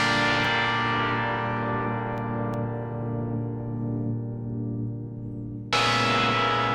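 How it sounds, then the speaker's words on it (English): A chord from the Serum synth plays the Among Us theme as a spooky synthwave arrangement. It sounds as one loud, sustained, bell-like tone with a distorted edge and a dense stack of harmonics, then is cut and struck again near the end. "I took this serum chord that I've used a bunch before, drew it in, and it sounds like this"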